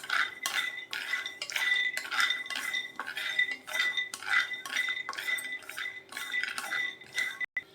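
Peanuts dry-roasting in a pan, stirred with a metal spoon in a brisk run of repeated scraping clinks and rattles against the pan, about two strokes a second, close and alone with no talk.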